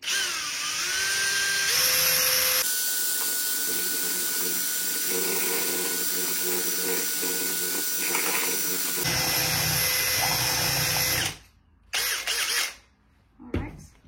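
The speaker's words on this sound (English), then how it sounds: "Power tool time." A power tool mixes powder in a container with a loud, steady whir that shifts pitch several times, then cuts out abruptly near the end and starts again in short bursts.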